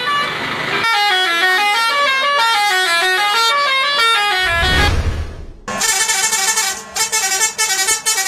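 A bus horn plays a loud telolet melody of stacked, rising and falling toots, repeating in a steady musical pattern, briefly broken by a low rumble before a second brighter burst of honking.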